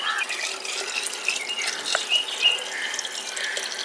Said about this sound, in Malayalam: 3 ലിറ്റർ വെള്ളം ഇതിനകത്തേക്ക് ഒഴിക്കണം കേട്ടോ